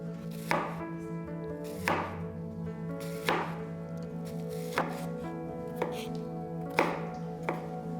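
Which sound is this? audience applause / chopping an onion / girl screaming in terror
chopping an onion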